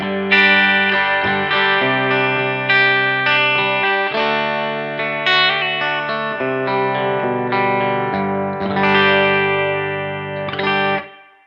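A Shergold Provocateur electric guitar played through a Blackstar Studio 10 amp on a clean setting, ringing out sustained chords and notes with a bright, even tone that holds steady and cuts off abruptly at the end.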